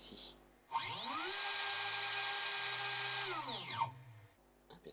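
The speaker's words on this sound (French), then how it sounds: "On a le démarrage turbo broche" A CNC router spindle starts in turbo mode, spinning up to a loud, steady high-pitched whine. It holds for about three seconds, then spins down and fades, heard close with no talk over it.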